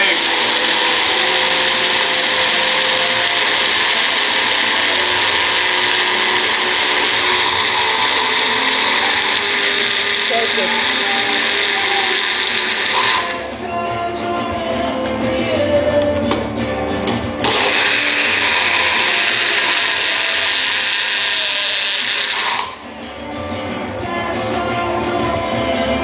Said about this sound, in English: it's the nice thing about the magic bullet here.